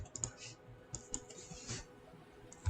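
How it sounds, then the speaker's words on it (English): Keys on a computer keyboard are tapped in short irregular bursts, close and fairly quiet, with a few sharper clicks separated by brief pauses. "I'm gonna just type it."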